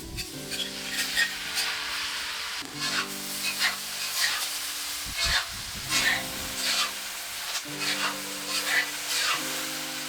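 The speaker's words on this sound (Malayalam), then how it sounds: "ഇതിലേക്ക് കുക്ക് ചെയ്തിരിക്കുന്ന ചിക്കൻ ചേർത്ത് കൊടുക്കുകയാണ്" Chicken sizzles in a pan with green chillies and curry leaves, a constant close frying hiss broken by bursts of stirring and scraping as pepper chicken fry is cooked, with no talking.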